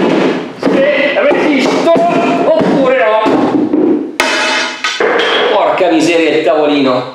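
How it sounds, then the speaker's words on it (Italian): A rock hammer strikes Red Wing leather boots, giving repeated sharp knocks and thuds that stand out loudly through a voice talking over them. "Questo è un martello da roccia e io proverei"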